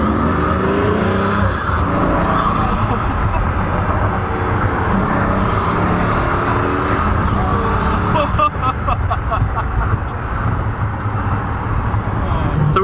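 Pagani supercar engine roaring from inside the cabin during a ride, a loud continuous drone with rising and falling revs throughout and voices talking over it.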